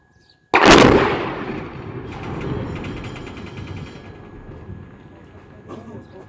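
A sudden loud bomb blast during a bomb disposal bursts out after brief quiet, then rumbles and crackles away over several seconds, with faint voices near the end.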